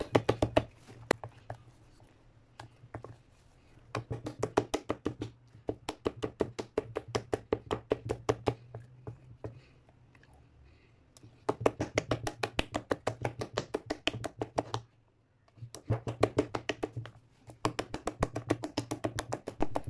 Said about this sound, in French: Je vais commencer à bien battre pour incorporer l'air.